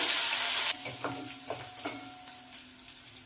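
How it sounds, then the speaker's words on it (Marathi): Mustard seeds crackle in hot oil for tempering, with a loud sizzling hiss that cuts off, then scattered small pops and spits continuing close by. "मोहरी चांगली तडतडत आहे"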